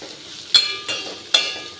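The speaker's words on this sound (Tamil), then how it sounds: "லேசாக வதக்கினா போதும்" Curry leaves, green chili, ginger and vegetables are sautéed in a pan, giving a soft sizzle broken by three sharp scraping stirs.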